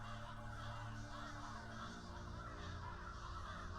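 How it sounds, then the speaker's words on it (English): About a dozen crows wheeling over finger-like rocks in the video game Saint Kotar, their caws carrying over a steady, dense ambient bed with no clear gaps. "At least a dozen circling above these finger-like rocks."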